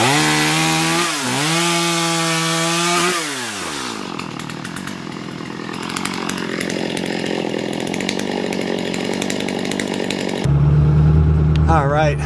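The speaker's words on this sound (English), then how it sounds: "I gotta go back to the tent now and get my chainsaw." A chainsaw revs with rising and falling engine pitch, then bites into a fallen poplar tree with a long, loud grinding cut before revving again at the end.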